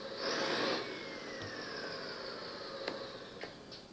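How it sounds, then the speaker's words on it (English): Simulated engine note from a 3T electronic sound system module fitted to an RC truck, a steady mid-pitched motor hum with a brief louder swell near the start, then holding level with a few faint clicks. "Now it is another engine sound."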